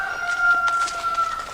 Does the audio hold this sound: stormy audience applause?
no